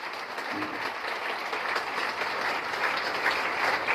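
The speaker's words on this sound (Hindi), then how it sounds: "एक बार और ताली बजाइए अपने लिए" A seminar audience in a hall claps continuously, a thick, even wash of many hands at moderate loudness with no pauses.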